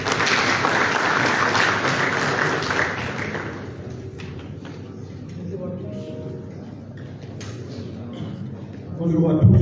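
Applause from an audience at a meeting of West African central bank governors, a broad steady wash of clapping that fades after a few seconds, leaving quieter room sounds and faint voices before swelling again at the end.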